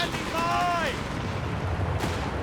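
Gunfire from a strafing run in the strategy game Company of Heroes 3 during a 2v2 match: a brief rattling burst with a falling whine, set over steady battlefield rumble.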